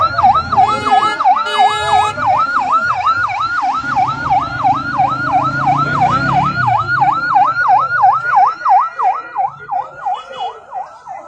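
An ambulance siren wails loud and close in a fast, repeating rise and fall, with a couple of horn honks at the start and road traffic underneath, near a medical complex on the Abbottabad–Mansehra road.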